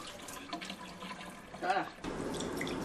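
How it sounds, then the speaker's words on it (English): Rice being rinsed in cold water in a bowl for clay pot rice, with running tap water and splashing that swells briefly near the middle, then a steadier wash of water to the end. "Then rinse the rice in cold water at least 3 or 4 times until the rice is clear."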